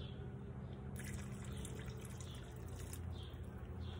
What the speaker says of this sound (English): So now I'm gonna add my water.